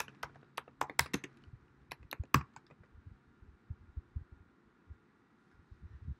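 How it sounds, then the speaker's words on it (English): Computer keyboard typing a line of text for a graphic design layout: a quick cluster of sharp, close keystrokes, then sparser soft taps over a quiet hum. "Type that in"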